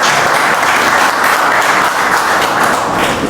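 Steady, dense applause from a seated audience at a yoga talk, a full crowd clapping evenly and loudly without pause throughout, no voices over it.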